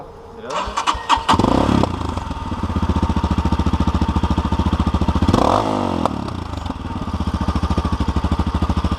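A motorcycle engine cranks and fires up, then settles into a loud, steady close-up idle with a brief rev, voices speaking nearby.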